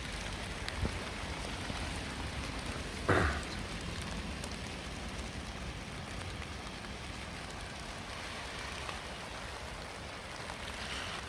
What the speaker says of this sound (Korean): 지금 밖에 비게, 비가 내리고 있는데요